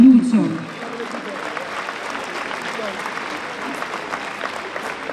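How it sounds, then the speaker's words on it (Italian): Audience applause at a gala evening in Italy, a broad steady wash of clapping from a large crowd that holds at even strength throughout, with a brief voice at the very start. "E l'applauso grazie veramente Lucio, va a Lucio"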